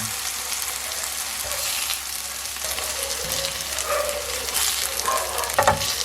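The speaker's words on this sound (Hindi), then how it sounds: "तो इसी तरह से हम सारे पीसेस जो हैं वो फ्राई कर लेंगे।" Chicken pieces fry in a pan for homemade shawarma, a continuous close sizzle with occasional stirring scrapes and light clatters of utensils, and no voices.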